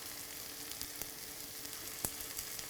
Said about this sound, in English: I put in the onions, and we're going to put some salt to help that onions get translucent.